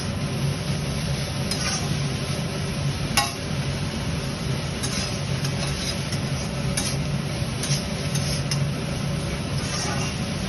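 Food is being stirred in a cooking pan, a steady sizzle and soft scraping running throughout, with occasional light clinks and taps of the utensil against the pan.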